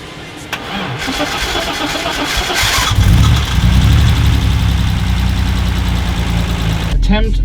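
Toyota Land Cruiser engine cranked on a second try, a short whirring crank followed by the engine catching and settling into a steady, close idle, with a voice heard over the running engine near the end.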